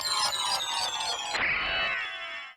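Castlevania: Symphony of the Night boss-defeat sound effect played at its proper speed, a bright, busy electronic shimmer that quickly breaks into a crashing, glittering burst and fades within about two and a half seconds.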